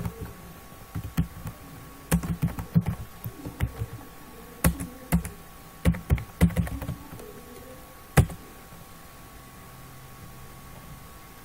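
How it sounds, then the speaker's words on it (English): Someone types a search command on a computer keyboard in a Docker terminal, tapping out a run of close, crisp keystrokes in irregular bursts with short pauses, then a single final key press, over a faint steady hiss. "So I'm gonna type the search image command for searching the Puppet image"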